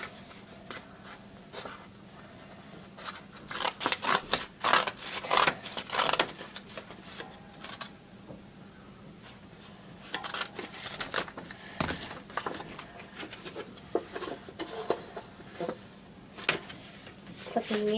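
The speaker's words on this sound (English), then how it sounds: "if it's too big, you're gonna need your scissors and cut" Scissors cutting paper for a homemade volcano craft, heard as scattered close snips and paper rustles mixed with intermittent talking.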